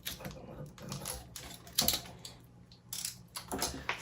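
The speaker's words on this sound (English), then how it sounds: "Because I don't have the scissors, I'm going to use the knife." A knife cuts parts out of a laser-cut wooden sheet from a UGears Windstorm Dragon mechanical model kit, giving crisp irregular clicks and sharp snaps close by, with short pauses between the cuts.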